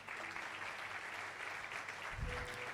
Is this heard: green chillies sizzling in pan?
no